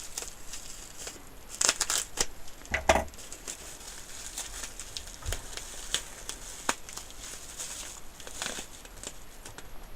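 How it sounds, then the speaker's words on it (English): Blunt scissors hacking open a package holding a relay board, with scattered crinkling, crunching snips and plastic tearing sounds in irregular bursts, some louder cuts standing out against a quiet background. "With the bluntest scissors in the world."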